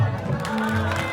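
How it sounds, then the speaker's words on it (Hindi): Dense, steady clapping from a crowd at a qawwali performance, filling the whole short stretch at even loudness with no voices on top. "इनकी पूरी टीम के लिए एक बार जोरदार तालियां"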